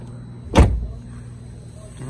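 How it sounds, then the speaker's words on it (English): A single solid thud as a car door is slammed shut on a Camaro sitting in a junkyard, close and loud against faint outdoor background noise. "Door slams well."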